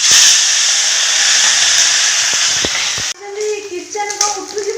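Desi chuna fish frying in oil in a pan, a loud bright sizzling hiss that drops away suddenly, followed by clinks and a voice speaking.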